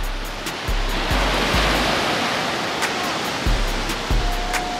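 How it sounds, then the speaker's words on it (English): Ocean waves wash onto a beach in a continuous loud roar of surf, overlaid by repeated low thumps of wind buffeting close by. "We at the ocean, bro. The ocean."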